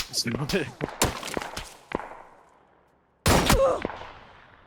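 Video game gunfire comes in sharp cracks and short bursts, close and loud, with gaps between volleys and a final heavy burst, while players talk over it.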